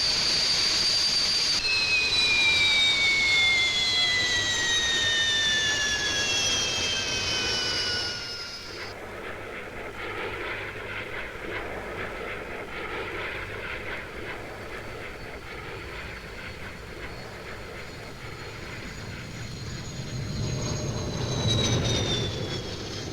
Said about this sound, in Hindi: और इसके लिए है जैगुआर विमान।